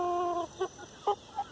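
Backyard chickens clucking in a home garden, a few short, close clucks spaced out after a brief sustained tonal call, with a faint steady hum underneath.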